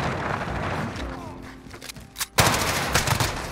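Rapid automatic gunfire from a Modern Warfare match with an MP5 submachine gun, bursts of shots that dip briefly and then return as a loud sustained volley, with voices talking over them.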